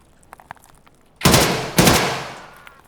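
Two loud, close bursts of gunfire in Escape from Tarkov, each a sharp crack followed by a ringing decay, preceded by faint distant ticks.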